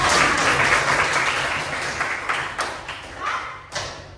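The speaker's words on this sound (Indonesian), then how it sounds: "Beri tepuk tangan dulu buat Pak." Audience applause at a talk on coding and artificial intelligence, a dense burst of clapping that starts loud and gradually thins and fades over about four seconds, with no voices over it.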